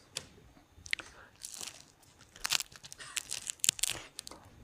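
Crunchy microwaved ham bitten and chewed up close, a run of sharp irregular crunches and crackles over a few seconds.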